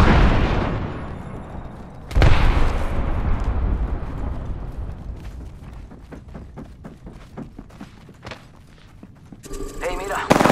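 An Arc Star grenade detonates in Apex Legends with a sudden loud burst, followed by a crackling, sputtering electric tail and scattered gunfire; voices talk over the battle throughout.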